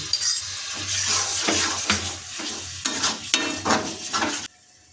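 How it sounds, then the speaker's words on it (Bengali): Chopped tomato sautés on a low flame for echor chingri, a jackfruit and prawn dish, with a soft sizzle under repeated scraping strokes of a spoon stirring in the pan. "টমেটো কুচি যোগ করছি এটাকে আমরা মিনিট মিনিট ধরে আরও লো ফ্লেমে কষিয়ে নেব"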